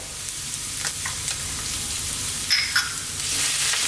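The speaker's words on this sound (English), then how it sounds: "we're going to start off by adding in our ginger and our garlic" Ginger and garlic sizzle steadily in hot sunflower oil for an Asian chicken mushroom stir fry, a close, continuous frying hiss with a couple of brief louder crackles near the end.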